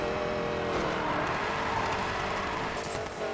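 Ford Mustang engine roaring steadily during a race in Need for Speed Payback, a loud continuous drone with tire and road noise and no talking.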